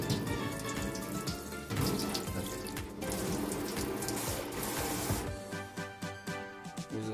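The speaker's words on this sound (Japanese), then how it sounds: "裏面もシャワーしてみる。" Water from a kitchen tap showering the back of a wax-coated wooden cutting board, a steady splashing rush that shifts as the board moves, then gives way to scattered drips near the end.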